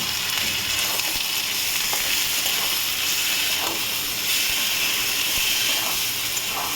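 Spices for a Bengali prawn curry (chingri macher jhal) fry in a pan with a loud, steady, close sizzle and hiss, broken by occasional faint scrapes as they are stirred.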